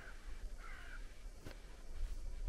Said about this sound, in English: except for a bird making noises